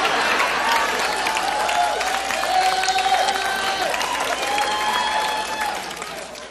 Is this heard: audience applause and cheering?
yes